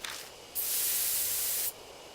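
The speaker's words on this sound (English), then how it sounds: "I take careful aim and spray the drug." Spray from a sleeping-drug sprayer aimed at a beehive in a video game: one steady, loud hiss of about a second, with fainter hissing before and after.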